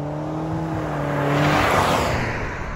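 A 2021 Nissan Sentra's engine hums and builds steadily as the car pulls away in drive, with a low whirring drone underneath.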